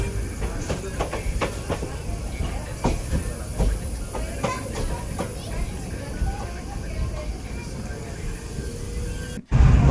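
Passenger train 17662 pulls away from Uppalavai station at night, wheels clacking in a steady rhythm and carriages rumbling nearby, with voices heard over the running noise.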